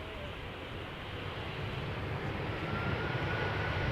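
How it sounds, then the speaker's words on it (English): An EasyJet Airbus A319 jet arrives at Schiphol from London Luton, its engines a steady, fairly loud broadband roar that swells slightly over four seconds, with no voices. "EasyJet A319 arriving from London Luton"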